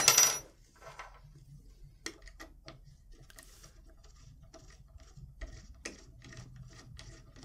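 An Allen wrench unscrewing Allen head screws on a Ruger PC Carbine, heard as faint, close metallic clicks, ticks and light scraping scattered in a quiet room after an initial brief clatter.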